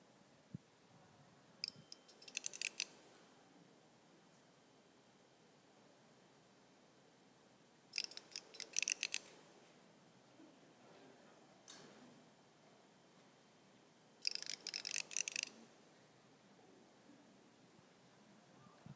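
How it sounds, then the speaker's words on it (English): Relays in a restored Apollo Guidance Computer setup chatter in three separate bursts of rapid, crisp clicking, spaced several seconds apart over a quiet background hum. "You can actually hear the relays clicking."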